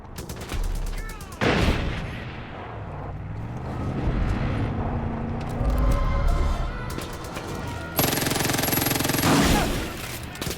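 Bursts of gunfire and explosions erupt in the open-world shooter Far Cry 5, with rapid automatic volleys, heavy blasts and a roaring vehicle or aircraft engine; loud and dense throughout, with brief game voices mixed in.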